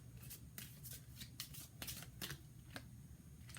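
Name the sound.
shuffling tarot cards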